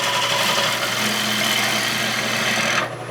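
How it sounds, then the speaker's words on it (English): Bowl gouge cutting a wood bowl on a lathe, a loud continuous shearing rasp over the lathe's steady motor hum, close up, easing off at the end as the cut stops. "I'll take out some more wood because it's a sharper tool right now."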